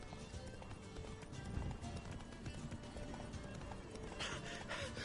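Horse hooves gallop at a steady clip-clop in a fantasy video game, rapid and continuous over a constant background bed, with a whinny near the end.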